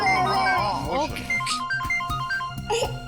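A phone rings with a repeating electronic melody in a tense crime-drama scene, a call from the ACP, playing over background music and a voice before it.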